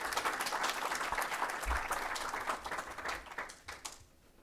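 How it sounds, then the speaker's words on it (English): Steady applause from a workshop audience on green chemistry innovation and education, a full room clapping continuously before tapering off into scattered claps near the end. "can we give him another round of applause?"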